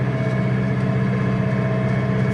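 A Basak 2110S tractor engine running steadily during corn sowing, a loud, close, even diesel drone with strong low harmonics and no change in pitch.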